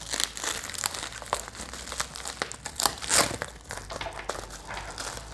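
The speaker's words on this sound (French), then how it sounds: "d'abord, on va déballer le contrôleur" Packaging crinkles and rustles as a Tunze Osmolator 3155 controller is unwrapped, close-up irregular plastic and paper crumpling with sharp bursts and small tearing sounds, fairly quiet, with no talk.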